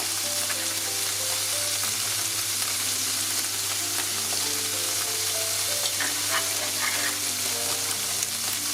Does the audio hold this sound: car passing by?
no